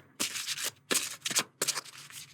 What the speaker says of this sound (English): Okay, so now I'm going to shuffle it here.